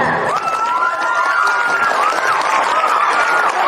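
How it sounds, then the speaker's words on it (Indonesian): A school audience at a junior high readathon event for Language Month greets the opening with steady applause and cheering, with children's voices and shouts rising over the clapping. "Boleh tepuk tangan"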